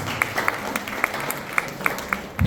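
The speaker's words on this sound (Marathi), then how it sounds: "एकदा स्वतःसाठी जोरदार टाळ्या झाल्या" An audience applauds at a library inauguration in Nanded City, Pune, a steady, moderately close wash of clapping with a few sharper individual claps standing out, ending in a louder surge.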